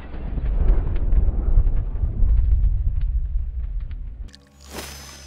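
A potion explodes in the alchemy game Alchemy Emporium with a deep, rumbling boom that rolls for about four seconds. It ends in a sharp, bright crackle and hiss.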